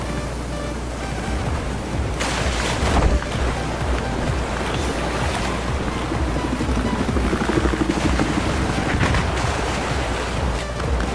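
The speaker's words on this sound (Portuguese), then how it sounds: "Avistei um helicóptero inimigo." An enemy helicopter in the Battlefield 4 video game, a loud, continuous rotor drone mixed with rushing wind and surf-like wash, with a few louder swells.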